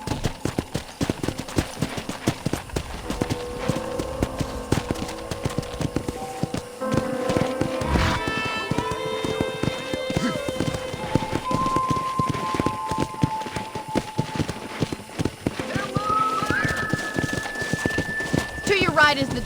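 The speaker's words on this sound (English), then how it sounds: "I picked out a fine horse for you." Horse hooves clip-clop at a walking pace in the Red Dead Redemption video game, with steady rhythmic hoofbeats under a stretch of music and talking voices.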